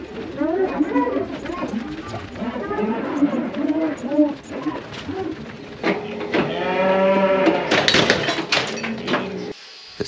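Cattle lowing and shuffling in a metal cattle crush, one cow lame with a foot infection, with a loud drawn-out moo near the end and clattering hooves and gates throughout.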